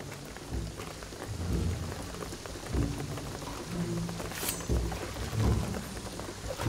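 Steady rain pours in Shadow of the Tomb Raider, a dense constant hiss with low rumbling swells of thunder rolling underneath, no voices present.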